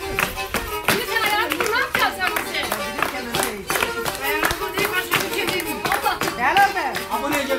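Guests clap along at a Rize–Erzincan wedding kemençe show, steady rhythmic handclaps over loud folk music and voices, filling the whole stretch without pause.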